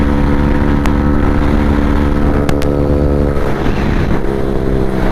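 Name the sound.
Hero Xtreme 125R and TVS Raider 125 motorcycles drag racing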